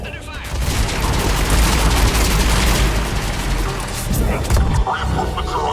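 Dense, sustained gunfire and blasts pound an escape pod under attack in the Mass Effect 3 video game, a loud chaotic barrage with voices speaking over it throughout.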